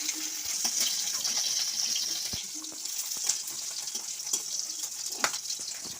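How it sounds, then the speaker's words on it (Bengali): Fish fries in hot oil until reddish brown, giving a steady close sizzle and hiss throughout with scattered small pops and crackles. "লাল লাল করে ভেজে নিচ্ছি বন্ধুরা।"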